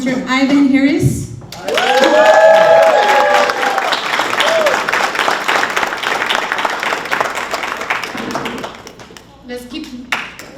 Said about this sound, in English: Let's keep applauding for Mr.